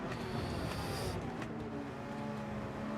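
Ferrari race car in Gran Turismo 7 during a daily online race, its engine a loud, steady drone running without a break.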